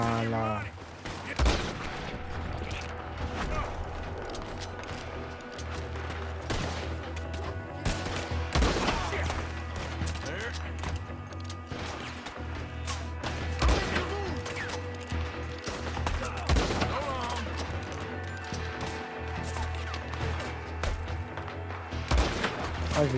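Gunfire in Red Dead Redemption 2, loud sharp shots cracking out irregularly over about twenty seconds, some in quick clusters and others spaced apart, over a steady low game background with occasional voices.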